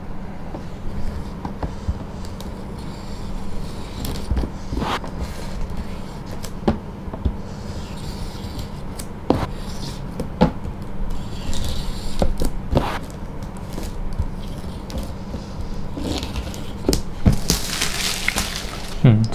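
A knife slicing through the plastic shrink-wrap on a board game box, with repeated sharp crinkling snaps and scratches spread through a quiet room and a louder rustle of plastic toward the end.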